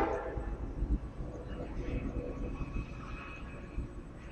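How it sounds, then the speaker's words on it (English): A train passes nearby as a steady, moderately loud low rumble with faint rattling that holds for the whole stretch. "Train."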